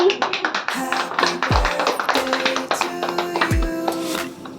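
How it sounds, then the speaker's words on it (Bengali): People at a birthday gathering in an old family house clap in quick, sharp taps, close by, mixed with voices and singing. "হাততালি হাততালি"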